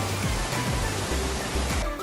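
Sarang Walet waterfall near Mount Rinjani pours with a steady, dense broadband rush of falling water, loud and continuous throughout, with low rumbling pulses underneath and no voices.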